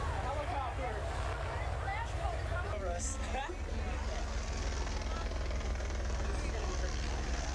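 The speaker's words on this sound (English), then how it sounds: "Helicopter circling above." A helicopter circles overhead during a building demolition at a candy factory, a steady broadband rotor drone running continuously beneath a busy crowd of chattering onlookers.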